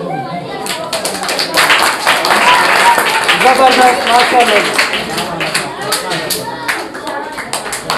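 Crowd applause at an elementary school result-day gift distribution in Ahmadabad, steady clapping from many hands lasting throughout, with someone speaking over it.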